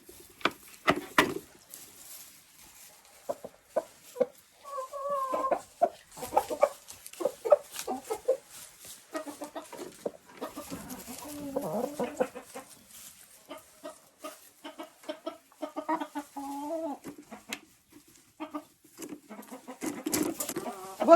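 Hens cluck in their nests at close range, giving scattered, irregular clucks and squawks with brief bursts of scuffling over about twenty seconds.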